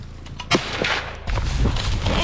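A single sharp rifle shot at a bear during an Alaska hunt cracks out close and loud, followed by a rumbling echo and outdoor wind noise.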